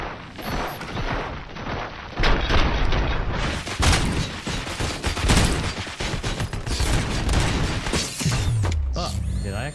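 Dense gunfire in the Robocop Rogue City video game, with rapid bursts, booming shots and mechanical clatter running continuously at close range, and brief voices in the mix.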